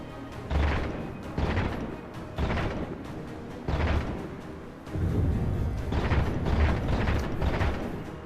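Battle rifle firing three-round bursts in Halo 4 on Legendary, loud booming shots in clustered groups with short pauses between, mixed with heavy blast-like impacts.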